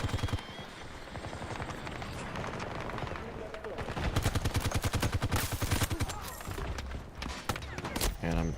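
Rapid bursts of automatic gunfire crackle through a Battlefield 2042 firefight, loud and dense, with overlapping shots, impacts and battle noise throughout; a voice talks faintly underneath.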